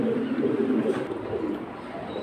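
Many pigeons cooing together at a crowded pigeon market, a dense continuous murmur of overlapping soft coos at moderate loudness with no clear talk.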